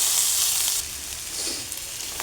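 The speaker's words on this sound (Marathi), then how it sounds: "कांदा छान भाजून घ्यायचा" Onion sizzling and frying in a pan with ginger-garlic paste, turmeric, chilli powder and coriander, with a steady close hiss that starts loud and then eases slightly, with a few light stirring scrapes.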